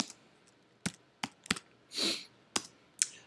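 Typing on a computer keyboard: a few sharp, separate key clicks and one longer, softer clatter, close and moderately loud, with no talking.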